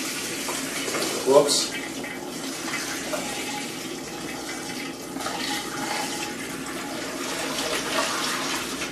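Fresh Star San sanitizer solution is poured into a home-brew fermenter while brewing a Mangrove Jack Northern Bitter. The liquid splashes and runs steadily for several seconds, and a voice speaks briefly near the start.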